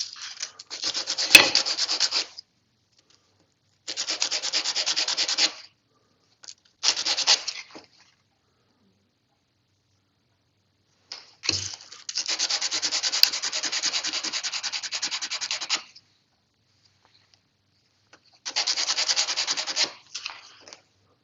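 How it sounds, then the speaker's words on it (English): Wood scrapes back and forth on sandpaper in five separate bursts of rough, rhythmic rubbing, with quiet pauses between them. "take a piece of sandpaper, put it on the table, and just check it until they're exactly even"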